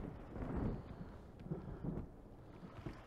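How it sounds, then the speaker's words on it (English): Distant thunder from an approaching storm in the Myst VR video game, low rumbling swells rolling in faintly over a steady wind-like background, with no talking. "Got a storm coming in. Storms are brewing."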